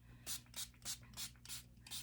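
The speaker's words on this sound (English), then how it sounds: "It's water, but that spray bottle is kind of not the greatest." A plastic spray bottle of water mists hair on a toddler doll in six quick, evenly spaced hissing bursts, close and fairly soft, with a low steady hum underneath.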